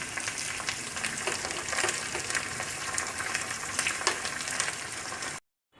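Ingredients sautéing in a pan for curd rice, with a steady close sizzle and frying crackle and some stirring, ending abruptly in silence.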